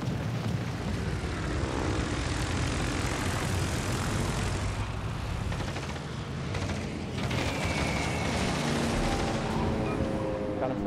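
Fighter aircraft engines in World of Warships Legends roar steadily and loudly throughout, with dense battle noise mixed into the drone.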